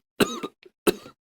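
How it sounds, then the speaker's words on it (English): A few harsh coughs in quick succession from someone with a burning throat, two strong bursts separated by a short pause and a faint catch of breath, close and isolated. "a burning throat that turned into a near-constant cough"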